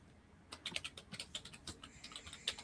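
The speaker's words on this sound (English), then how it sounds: "Did you turn on your keyboard?" Computer keyboard keys clatter in a quick, uneven run of soft taps and clicks, close and fairly quiet, with no talking.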